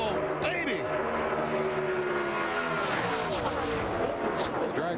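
NASCAR Xfinity race cars run side by side, engines roaring and pitching up and down as they pass close by, while an excited commentator talks over the racing.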